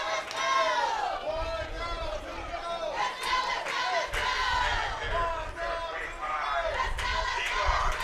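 Southern Jaguars fans at a SWAC baseball tournament game against Grambling State cheering and shouting as a crowd, sustained yells and chants rising and falling, with a commentator's voice talking over it.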